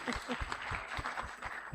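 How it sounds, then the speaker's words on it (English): A ceremony crowd gives a brief, soft round of clapping, a short patter of hand claps over low room murmur. "You can clap for her."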